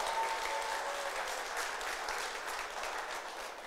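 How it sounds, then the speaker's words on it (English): A church congregation claps warmly and continuously in a sustained round of applause that fills the room, with no one talking over it. "You should not have clapped because it's only going to make things worse for me."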